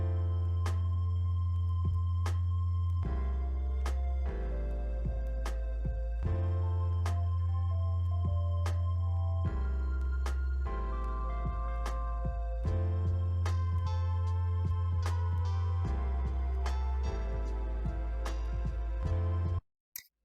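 Basic background music from the video game Barry's Bureau of Bygone Belongings plays steadily throughout, with a repeating bass pattern under plucked melodic notes and light percussive ticks, ending abruptly.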